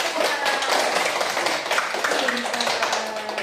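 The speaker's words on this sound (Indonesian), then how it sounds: "Oke, tepuk tangan untuk kita." Classroom group clapping hands, a short burst of dense claps from children that holds steady for a few seconds, with faint voices underneath.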